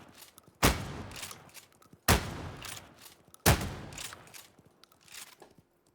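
Three sharp gunshot volleys ring out at about one-and-a-half-second intervals while shooting zombies in a video game, each burst loud and punchy against a quieter, rustling game background.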